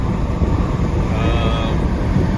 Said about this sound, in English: hopefully you can hear a little freeway driving